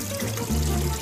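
Water gushes steadily from a tap into a bathtub, a loud continuous splashing rush that grows fuller about halfway through, with no talking.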